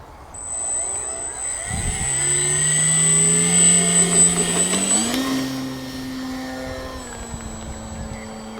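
An FMS 1.4 m Piper J3 Cub RC model airplane flies on low rates without a gyro, its electric motor droning loudly with a steady high whine that rises and shifts in pitch as it passes and changes throttle.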